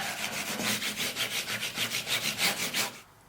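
Guitar fret ends on a Fender Eric Clapton Stratocaster rubbed with 4000 grit micro mesh, about fifteen quick, even back-and-forth strokes close up, ending abruptly.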